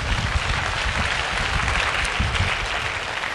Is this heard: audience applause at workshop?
yes